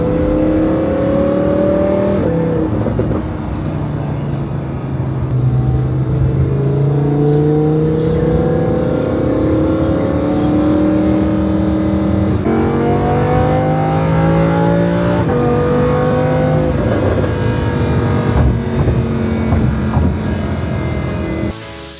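A limited-edition DarwinPro car pulls away and accelerates, its engine note climbing and dropping through several gear changes, loud and close, with no talking.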